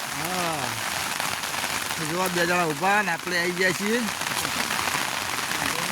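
Steady, dense patter of heavy rain on surfaces, continuous throughout while a person speaks over it close by.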